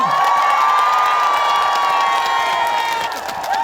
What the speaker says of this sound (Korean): 오늘 이 자리에 박서진 잘 왔다 생각하시면 큰 박수 한번 주시겠어요?